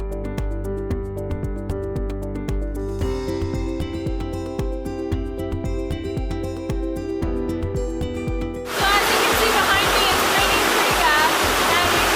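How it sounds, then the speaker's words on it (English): Barron Gorge waterfall in tropical rainforest, swollen after heavy rainfall, bursts in as a loud, dense roar of rushing water in the closing seconds, after a stretch of music. "This dense and lush landscape gives way to the beautiful Barren Gorge waterfall, which only roars to life after heavy rainfall."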